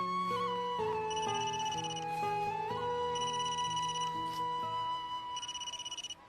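A mobile phone ringtone sounds for an incoming call, a bright repeating electronic melody of tonal phrases that plays steadily and loud throughout, with no talk over it.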